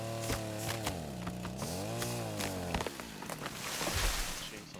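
A chainsaw in the video game Rust cuts down a small tree branch, its motor droning loudly and continuously with the pitch dipping and rising as it bites into the wood.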